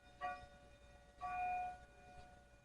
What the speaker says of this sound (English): In case you lost count of the clock chimes, it is now 11 p.m.